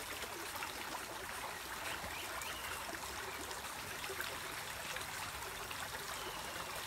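Water flows steadily along a forest stream, a soft, continuous trickling and babbling at low volume with no voices over it.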